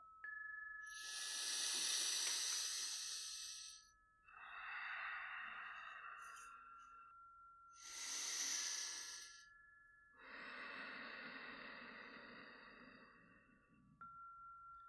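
Slow, deep breathing during a guided meditation: four long, airy breaths alternating inhale and exhale, each several seconds with brief pauses between, close and soft against quiet background.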